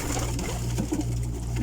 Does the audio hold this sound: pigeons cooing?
yes